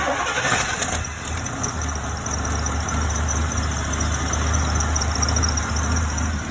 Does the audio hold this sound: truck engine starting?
yes